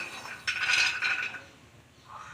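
Peanuts being stirred and fried in a pan, a brief burst of dry clinking and scraping rattle loud for about a second, then fading to a faint sizzle.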